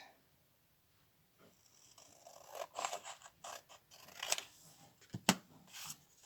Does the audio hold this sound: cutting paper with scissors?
yes